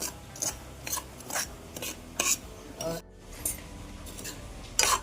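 Semolina (rava) roasting in a pan for upma and being stirred, heard as a series of short, dry scraping and rasping strokes in an irregular rhythm, close and fairly quiet with no talk.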